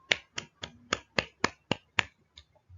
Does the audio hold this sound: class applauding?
yes